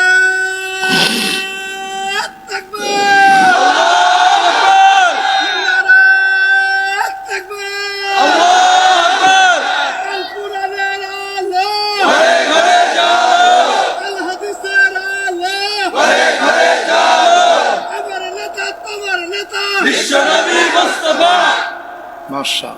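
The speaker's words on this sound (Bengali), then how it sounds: "জোরে একজন তাকবীর দেন তো দেখি।" A large religious gathering roars the takbir together, loud massed voices chanting in repeated bursts with short pauses between, a single voice leading in between the responses.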